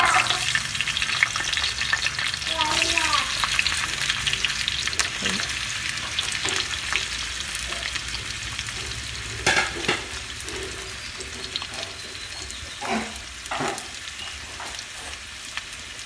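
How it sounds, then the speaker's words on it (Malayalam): Jackfruit seeds fry in hot oil in a pan, a steady dense sizzle running the whole time with occasional brief stirring clatters and pops, close and moderately loud. "നമുക്ക് എണ്ണ ചൂടായതിന് ശേഷം ഈ ചക്കക്കുരു ഇതിലേക്ക് ഇട്ട് കൊടുക്കാം"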